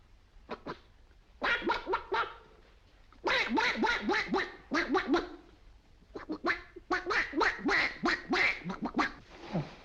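A voice mimics a duck, quacking in rapid, comical runs of nasal honks grouped into several bursts, close and fairly loud with brief gaps between them.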